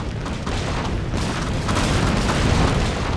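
Video game artillery fire and explosions form a dense, continuous roar of overlapping booms and rumbling blasts. The sound is loud and steady throughout, with no pause.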